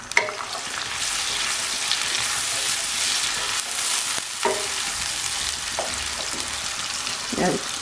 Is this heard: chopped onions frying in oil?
yes